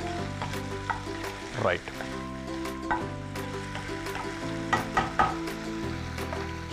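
Chicken pieces fry in a pan under a continuous loud sizzle, with repeated spatula clacks and scrapes as they are turned, and a brief word spoken partway through.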